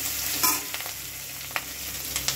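A mashed long bean and pea filling sizzles steadily while being stirred and fried in oil in a village-style kitchen, with a few soft scraping strokes of the spoon over the constant frying hiss.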